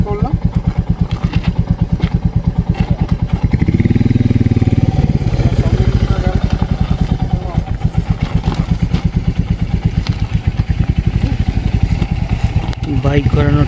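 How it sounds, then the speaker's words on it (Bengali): During off-road training, a motorcycle engine runs nearby as the bike is turned. It throbs steadily and roars briefly louder partway through, with no speech over it. "বাইক ঘোরানোর টেকনিক।"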